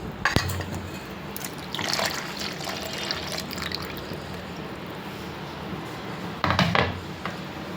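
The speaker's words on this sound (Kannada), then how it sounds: "ಮಿಕ್ಸಿಗೆ ಜಾರಿಗೆ ನೀರೇ ಹಾಕ್ತಾಯಿದ್ದೀನಿ" Water poured into a mixer grinder jar in a home kitchen while preparing a green masala for fish fry, with a steady liquid rush and splashy bursts near the start and end, no talking.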